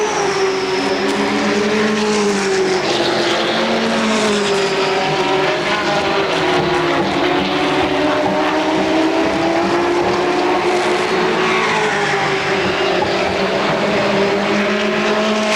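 Race cars circling a speedway track, their engines droning and rising and falling in pitch as they pass, loud and continuous throughout.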